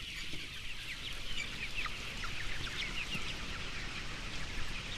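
Broiler chickens cluck in a windowless barn, many birds at once forming a constant dense chatter with scattered sharper clucks, steady throughout over a noisy indoor hum.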